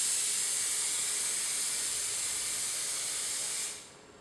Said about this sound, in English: make sure the nozzle isn't dripping too much, otherwise you're going to splatter